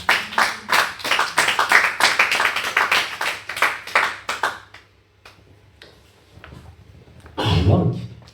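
A church congregation claps in a dense, loud burst of applause and cheering for several seconds, then it fades out into quiet with a brief swell of voices near the end.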